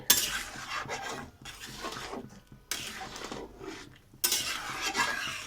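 Spices being stirred into a simmering Bengali fish curry in a pot, a spoon scraping and clinking against the metal in short bursts with quiet pauses between, close and moderately loud, no talking.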